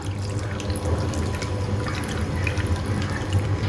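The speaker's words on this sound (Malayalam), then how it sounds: "ഇനി നമുക്കിത് വേകാൻ ആവശ്യത്തിനുള്ള വെള്ളം ഒഴിച്ചു കൊടുക്കാം." A steady stream of water pours continuously into a cooking pot of Chinese potatoes, close by, with a low rushing hiss and no voices.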